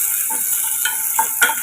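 Chopped onions sautéing in a pressure cooker for mint rice, with a steady soft sizzle and occasional stirring scrapes at close range, no talking.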